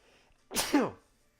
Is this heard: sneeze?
yes